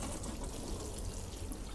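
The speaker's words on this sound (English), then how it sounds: "So before I sow the seeds, what I'm going to do is I'm going to give it a quick water." Water poured over very dry compost before sowing tomato seeds, a steady close wash of pouring and trickling liquid running through the soil alone for a couple of seconds.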